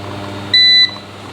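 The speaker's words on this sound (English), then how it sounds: "Oh god, it's buzzing." An FSP 480W UPS under load during a bench test gives a short, loud, steady electrical tone that holds for about a third of a second over a constant low hum.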